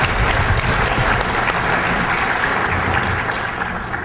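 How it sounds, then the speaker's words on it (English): An audience at a DEFCON 18 hacker conference talk claps for a volunteer, a loud, dense burst of applause that carries on steadily and starts to fade near the end. "Let's hear for Dennis, everyone"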